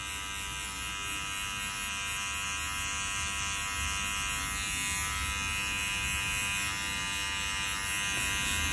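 Electric hair clipper set to 1 centimetre running as it cuts a client's hair for a dark fade, a steady close buzz throughout with no talking.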